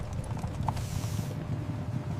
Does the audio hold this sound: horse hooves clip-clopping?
yes